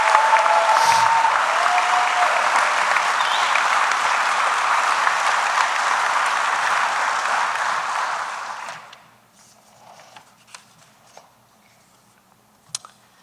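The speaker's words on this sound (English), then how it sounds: "How about a round of applause for Class 252?" A large audience applauds a graduating police academy class, Class 252 at Lackawanna College, in a steady, dense roar of clapping for about nine seconds. It then fades out, leaving near silence broken by a few faint knocks.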